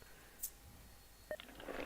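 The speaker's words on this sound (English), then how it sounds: "sorry for the beeping in the background." A few short electronic beeps from a chick-hatching brooder, faint and intermittent, over quiet room background.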